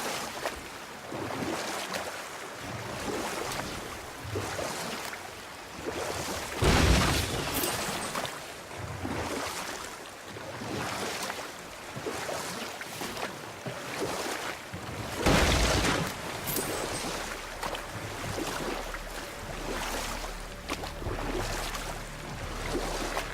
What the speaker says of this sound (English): This waterfall is even bigger now that the water's dropped.